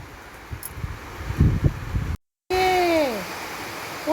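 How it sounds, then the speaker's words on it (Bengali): Heavy rain pours steadily as a broad, constant hiss, joined by gusty wind during a sudden downpour; a few low knocks come before a brief dropout, and a thin rising whistle appears afterward. "প্রচুর জোরে বৃষ্টি চলে এসছে।"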